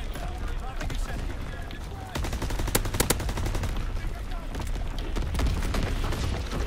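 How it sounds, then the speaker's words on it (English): Division artillery firing in the video game Call of Duty: WWII: dense rattling gunfire with heavy booming impacts, several sharp blasts clustered midway, all loud and continuous. "Firing division artillery."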